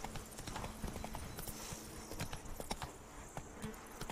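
Roach the horse galloping in The Witcher 3: Blood and Wine, a steady rapid clip-clop of hooves over open ground, fairly faint against ambient game sound.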